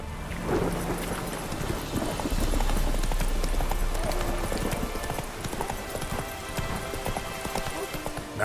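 Roach the horse gallops in a video game, its hooves beating a steady, fast clip-clop with no break, under a constant wash of ambient wind and background noise.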